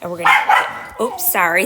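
A pet dog lets out a couple of quick, close barks in a home crafting space, the sharp yaps overlapping someone talking.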